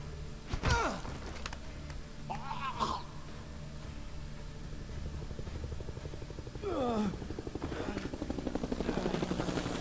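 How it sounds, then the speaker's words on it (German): A helicopter in the video game Splinter Cell: Conviction gives a steady rotor thrum and whine under game effects and voices, a low continuous drone that swells slightly toward the end. "Was war denn das für ein Hubschrauber?"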